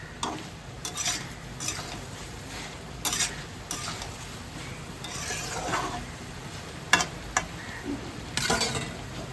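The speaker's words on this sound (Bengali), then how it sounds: "তরকারিটা আরেকবার নাড়িয়ে দিচ্ছি।" A spoon stirs chicken curry with soybean in a pot, making intermittent scraping, clinks and knocks against the metal over a quiet sizzle, with no talking.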